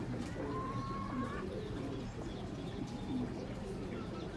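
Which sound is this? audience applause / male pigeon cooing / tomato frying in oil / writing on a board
male pigeon cooing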